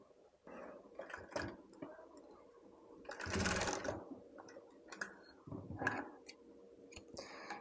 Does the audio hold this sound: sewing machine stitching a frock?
yes